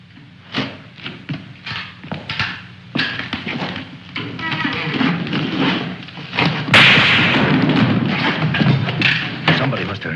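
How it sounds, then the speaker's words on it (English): A single sharp gunshot cracks out midway through a tense scene in an old black-and-white war film. Scattered thumps and bursts of talk come before and after the shot. "why did you have to shoot?"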